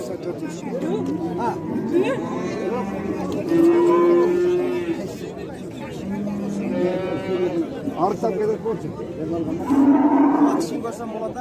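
Cattle low repeatedly at a busy livestock bazaar in Özgön, long drawn-out moos rising over a steady babble of chatter and crowd noise, with people talking nearby.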